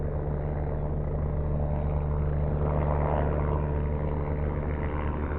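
A helicopter flies below the listener's altitude, its steady rotor and engine drone heard continuously as a broad, even rumble with no talk.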